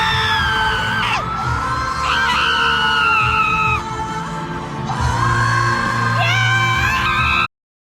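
Piercing screams and shrieks from a dense crowd at a concert during a live performance, loud and sustained with swelling high-pitched cheers and yells.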